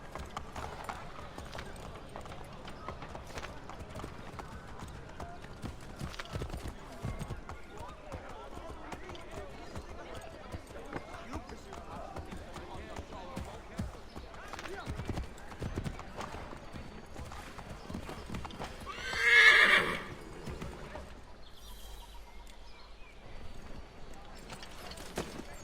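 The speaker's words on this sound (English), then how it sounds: "I can just run over people with my horse." Steady clip-clop of horse hooves running through a busy Assassin's Creed III game scene with background chatter, with a brief louder burst near the end.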